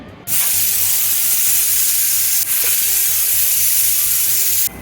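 A loud, steady high-pitched hiss of escaping steam runs almost continuously, like a pressure cooker venting, with a brief dip midway.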